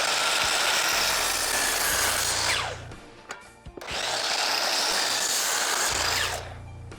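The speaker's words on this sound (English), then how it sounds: "So I'll go ahead and make the cuts with the miter saw." A miter saw slices through wooden table legs in a makeshift woodworking shop. Two loud, whining cuts of about three seconds each are heard, and each winds down briefly before the next begins.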